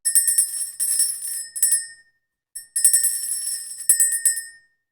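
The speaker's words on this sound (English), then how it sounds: "ring the bell" A bell rings in rapid repeated trills, bright and loud, in two bursts separated by a brief silence, with no voices.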